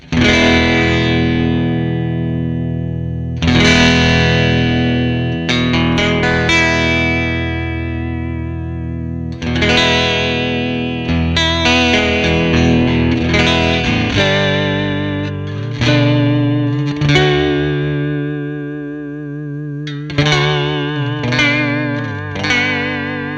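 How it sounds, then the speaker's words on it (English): Electric guitar through a Behringer UV300 Ultra Vibrato pedal with the depth turned up, ringing chords and notes wavering in pitch, with strums recurring every few seconds, loud and alone. "as I turn that depth up, the pitch starts to modulate and the vibrato intensifies"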